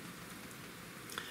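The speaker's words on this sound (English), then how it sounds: "it is just raining all get out here in St. Louis on November 4th" Heavy November rain falls in St. Louis, a steady, dense hiss of drops on surfaces that holds evenly throughout, with no voices.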